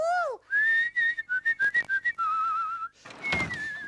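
Whistling through pursed lips plays a lively tune of sliding, rising and falling notes with a run of short staccato chirps in the middle, clear and close with no talk.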